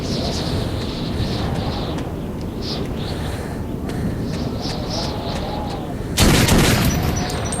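A low, rumbling ambience from the post-apocalyptic Moscow shooter Metro 2033 runs for several seconds before a single loud, close shotgun blast bursts out near the end.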